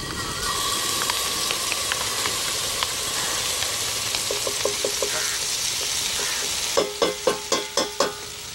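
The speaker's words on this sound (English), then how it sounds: "Then simply start by adding your ginger and garlic paste." Ginger and garlic paste sautés in refined oil in a pan for cream chicken, a steady close hiss and sizzle with light stirring scrapes, ending in a run of sharp spoon taps against the pan.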